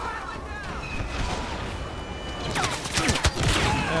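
Blaster fire crackles during a Walker Assault battle on Sorosuub Centroplex in Star Wars Battlefront. Rapid shots build over a roaring, windy battlefield backdrop and grow denser and closer toward the end, with voices talking over the noise.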